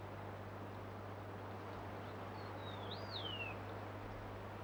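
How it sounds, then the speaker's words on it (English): A mountain black-eye, a highland bird of Borneo that ranges almost to the mountain summit, gives a single rising-and-falling whistled call midway through, over steady wind-like hiss and a low hum. "The mountain black eye, found only in the highlands of Borneo. It's one of the few birds that goes almost to the summit of the mountain."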